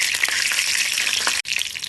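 Curry leaves dropped into hot oil already used for frying chicken sizzle loudly and continuously, a dense close crackle with a brief break near the end.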